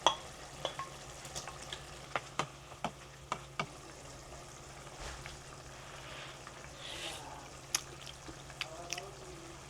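Vegetables cook in a pan with fried eggplant added, giving a soft steady sizzle punctuated by repeated sharp clinks and scrapes of a utensil stirring, fairly quiet and close.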